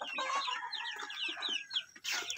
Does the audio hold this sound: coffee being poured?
no